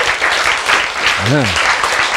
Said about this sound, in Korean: 여러분이 지금 박수를 막 치시는데 섭섭하게도 안 치시는 분들도 있어